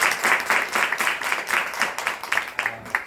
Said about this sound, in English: Can you please clap it up for yourselves?